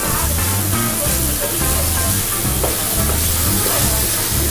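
Chicken curry frying and being stirred in a pan, a dense steady sizzle with scraping stir strokes throughout, loud and close, with no talk over it.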